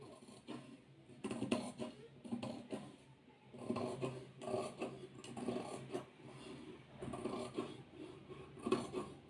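Repeated scissor cuts rasp through fabric for a chudi top pocket, crisp bursts in an uneven rhythm close by, with no talking.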